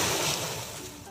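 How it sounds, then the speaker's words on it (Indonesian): Ocean waves wash onto a beach as a steady, broadband roar of surf that fades slightly toward the end, heard alone with no voices. "itu adalah suara ombak"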